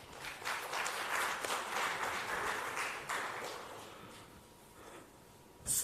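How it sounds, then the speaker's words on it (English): A round of applause from an audience at a two-year celebration event for a philanthropic organisation, steady moderate clapping from a crowd that fades toward the end. "so another round of applause for him for that"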